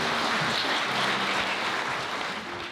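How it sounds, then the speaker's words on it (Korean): Wedding guests give a big round of applause after the couple's vows, a dense, even wash of many hands clapping together that holds steady and then begins to thin toward the end. "큰 박수 부탁드립니다"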